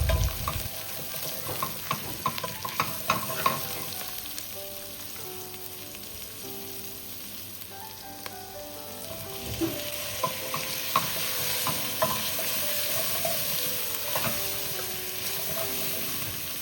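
Chopped vegetables and onions for sambhar fry and sizzle in a pan, with repeated scraping stirring strokes and a steady hiss rising in the second half, close and moderately quiet.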